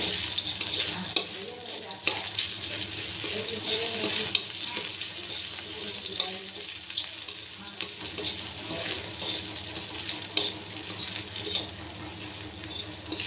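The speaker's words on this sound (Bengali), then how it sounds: "লাল লাল করে ভেজে নিতে হবে" Greens (lima shak) frying in a pan give off a steady, fairly quiet sizzle with occasional stirring scrapes running throughout, with no talking.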